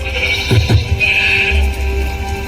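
Sheep bleat among a flock in a pastoral shepherd setting, a couple of close wavering calls around the middle over steady low background noise.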